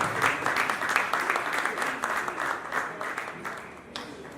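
Audience applause rising for a finalist taking his bow at a teaching reality-show contest in Nigeria, a steady dense wash of clapping that holds for several seconds before easing slightly at the end.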